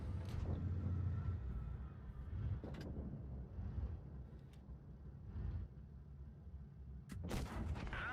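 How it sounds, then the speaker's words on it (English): Tank cannons fire in the World of Tanks Blitz video game. A few sharp, booming shots ring out at intervals over a low rumbling engine drone, with no talking. "someone trying to shoot me"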